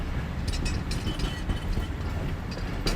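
A train behind its locomotive entering the Khojak tunnel near the Afghan–Pakistan border, a heavy continuous low rumble with rhythmic rattling and clicking from the wheels, loud and close from inside the carriages.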